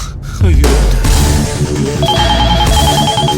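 A mobile phone ringtone plays loud and close, a repeating electronic melody with steady tones that starts abruptly and keeps ringing, with background music underneath.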